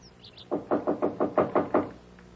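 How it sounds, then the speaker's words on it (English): Eight firm knocks pound on an apartment door in a fast, even rhythm, close and loud against a quiet background, staged as a radio drama sound effect. "this guy is on the balcony in front of 2A, banging on the door"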